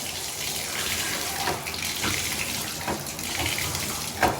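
Water runs steadily from a Delta bathtub spout under repair, a continuous close splashing gush with a few small knocks and clatters along the way.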